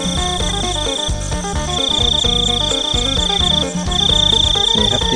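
Crickets chirp loudly and close by at night in southern Isan, Thailand, a shrill, continuous pulsing trill that swells in long phrases over a dense chorus of other night insects.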